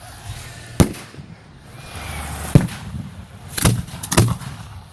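Fireworks at a 2014 St Marlo display burst in sharp, loud bangs, four main explosions spread irregularly across the moment, with crackling and low rumble between them.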